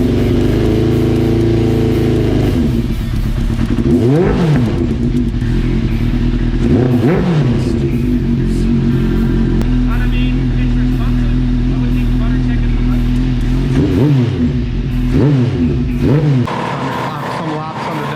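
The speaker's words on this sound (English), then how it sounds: "Some laps on the dyno now that the Gixxer's all put together." A Suzuki GSX-R 1100 motorcycle runs on a dyno after carburetor tuning and cleaning, its engine droning loud and steady with repeated rising and falling revs as it moves up through the gears.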